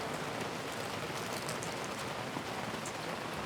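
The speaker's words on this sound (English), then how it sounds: "here it's still raining" Steady rain patters on surfaces nearby in Key West, a dense even hiss of drops falling continuously without any voices.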